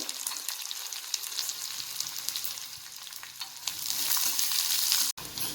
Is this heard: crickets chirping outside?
no